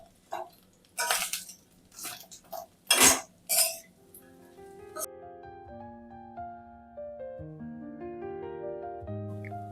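Fried jackfruit being tossed and mixed in a pan, a run of loud clinking scrapes of utensil against metal, then quiet with a soft tonal background.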